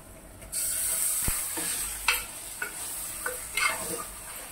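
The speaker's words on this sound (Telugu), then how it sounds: "నేను ఒక 5 నిమిషాలు నూనెలో బాగా ఫ్రై చేసుకున్నాను." Washed mutton coated in ginger-garlic paste and turmeric fries in hot oil, a constant close sizzle broken by several scraping stirs of a spoon. No voices.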